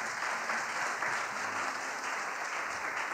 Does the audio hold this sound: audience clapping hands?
yes